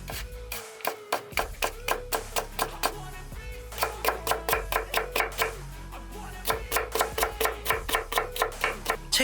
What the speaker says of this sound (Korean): 무를 얇게 썰었으면 이제 채를 쳐주도록 하겠습니다